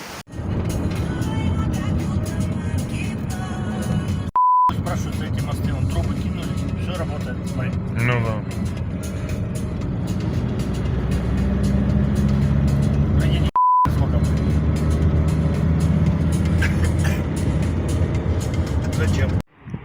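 A car drives along a road through liberated areas of the Kyiv region, its engine and road rumble running steadily throughout while someone talks over it.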